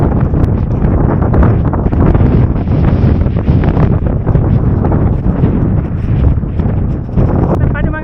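Strong wind roars constantly and loudly over the microphone on Ratangad fort during rain, a steady buffeting rush that fills the whole stretch.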